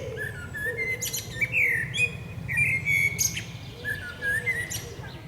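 A blackbird sings close by in a series of short, fluting, warbling phrases separated by brief pauses, with a low, steady background rumble underneath.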